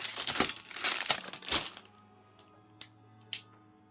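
Plastic bags holding model kit runners crinkle and rustle up close in busy bursts, then give way to a few sparse, isolated crackles as the handling slows.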